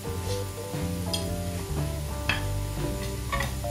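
Oil and spices sizzling steadily in a frying pan while a utensil stirs them, with soft scraping and clinks over a continuous hiss, close and fairly loud, no talking.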